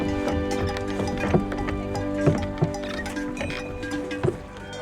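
Cattle hooves clop and knock irregularly as a herd walks onto a boat raft made of two boats on a Bavarian alpine lake, the hollow strikes sounding over a steady humming background.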